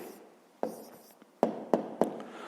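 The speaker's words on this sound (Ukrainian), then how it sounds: "Пишемо відповідь." Pen on paper while a math answer is written out, giving a few sharp close taps and short scratchy strokes separated by quiet pauses.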